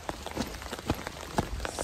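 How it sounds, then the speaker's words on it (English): Rain falls steadily outdoors in Grenada, heard from under a held umbrella: a continuous close patter with scattered louder drops tapping at irregular moments, and no voices. "outside is raining today again"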